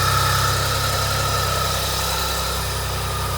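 A motorcycle idles in a steady, close, low rumble with a constant mechanical hum, out on a road-trip route, with no voices.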